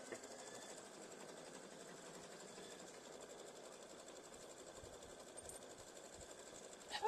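A home OESD embroidery machine stitches the placement outline for a pink applique on a zipper pouch, giving off a steady, continuous mechanical whir at close range with no talking.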